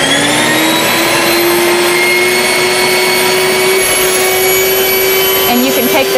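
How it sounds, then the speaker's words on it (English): A home-use grain mill's electric motor running loud and steady at close range with a sustained high whine, while a person talks over it. "So I'm gonna turn on the motor right now."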